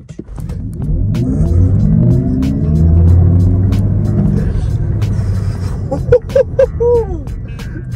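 A 1548-horsepower Xiaomi SU7 Ultra electric car accelerating hard gives a loud rising motor whine over road rumble, followed by brief excited voices near the end.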